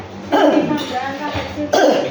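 Two harsh coughs break out about a second and a half apart during macaroni salad preparation, loud and close, with voices mixed in around them.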